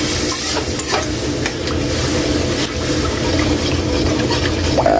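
Mushroom broth is stirred into a simmering tuna dish in a pan, giving a steady, close wet stirring and sizzling that runs throughout without pause.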